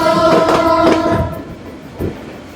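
A Bangladeshi local train runs between Tangail and Jamalpur, loud and close, with a tonal whine over rattling clickety-clack before it drops away into a quieter rumble and one more brief knock.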